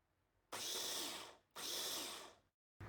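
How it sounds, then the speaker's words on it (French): Blueberries pulsed in a blender for two short, loud whirring bursts of about a second each, separated by a brief pause, with another burst just starting at the end. "je vais juste les mixer mais vraiment rapidement sur 2 coups"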